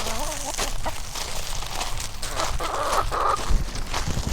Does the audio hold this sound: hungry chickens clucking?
yes